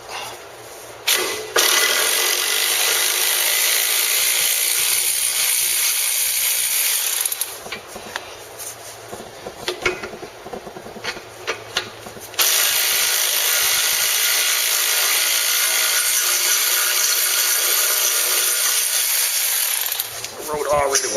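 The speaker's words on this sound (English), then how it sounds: "I'm going to go ahead and finish taking this caliper brace off." Hand tools rattle and ratchet while removing the front brake caliper brace on a 2001 Mercedes CLK55 AMG W208, long stretches of steady mechanical whirring broken by clicks and metallic clatter, close, with some talk mixed in.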